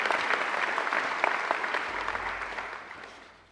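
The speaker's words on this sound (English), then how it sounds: "I think Iggy deserves another great round of applause." Applause from a graduation ceremony audience at Macquarie University, steady dense clapping that fills the hall and tapers off slightly toward the end.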